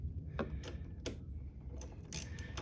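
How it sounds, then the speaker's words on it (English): A steering stabilizer bracket for an Ohlins-style RykerMod damper is tightened down evenly, giving a few quiet, separate clicks and metallic ticks with short pauses between them, close by and faint over low background hum. "we want to do the same thing as far as tightening down this bracket to where these gaps on the side here stay even"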